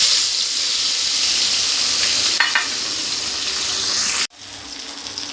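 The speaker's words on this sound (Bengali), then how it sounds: "তেলে মাছের মাথাটা ভেজে নেব।" A fish head fries in hot oil for a Bengali recipe, giving a loud, dense, continuous close-up sizzle that cuts off sharply near the end and leaves a quieter sputter.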